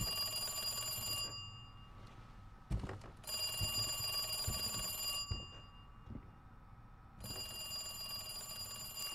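Old-style electric telephone bell in the Resident Evil 2 video game rings in repeated bursts with gaps between them, loud and close over game ambience and footsteps.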